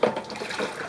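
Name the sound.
water running in an aquarium room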